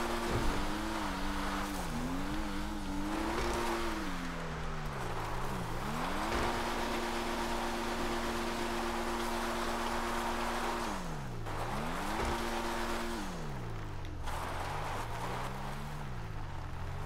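A game car engine drones at moderate volume, its pitch climbing and dipping repeatedly as it accelerates and shifts, over steady road noise and occasional tire squeals.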